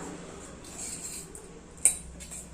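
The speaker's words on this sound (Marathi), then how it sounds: "आता आपण मिक्स करून घेऊया." Kachori filling being mixed in a bowl, with a faint, steady scraping of a utensil and one sharp clink near the end, quiet and close.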